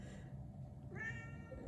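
A pet cat gives a single short meow, fairly faint and set against steady low background hum, with no talking.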